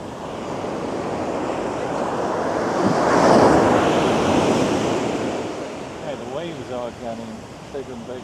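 Ocean surf breaks at Baker Beach in San Francisco in a continuous, loud wash that swells into a bigger crash midway, with wind buffeting the microphone and a voice speaking briefly near the end.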